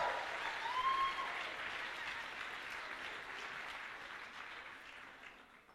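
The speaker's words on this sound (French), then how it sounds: "Voilà, on peut encore l'applaudir." A crowd at a cosplay contest at the Swiss Fantasy Show applauds a cosplayer, with thick, sustained clapping that swells early and then slowly fades toward the end, plus a brief high whistle near the start.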